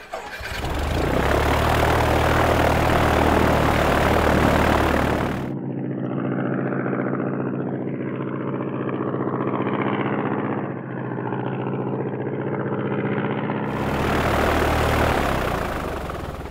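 An animated Lego plane's engine sputters to life and then runs steadily with a droning propeller hum, loud and continuous with no talk, before the sound cuts back to a denser full roar.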